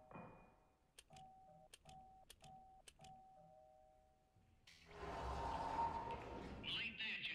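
A doorbell in the video game Obduction chimes in a run of five or six evenly spaced, clear dings, each with a short ringing tail, before a louder rumbling noise takes over.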